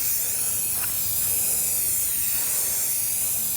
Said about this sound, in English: spray this way